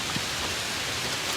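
Heavy rain pours steadily onto a car during an overnight car-camping trip, a dense, continuous hiss of drops drumming close on the roof with no gaps or voices.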